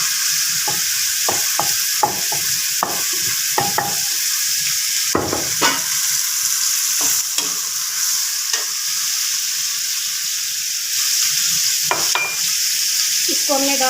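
Chopped tomatoes and garlic paste frying in a pan for aloo gobi, a steady bright sizzle under frequent clicking and scraping stirring strokes, close and fairly loud.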